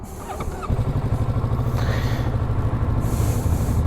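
A 2021 Kawasaki Ninja 650 motorcycle engine cranks briefly and catches, then settles into a steady, close idle rumble that runs on without a break.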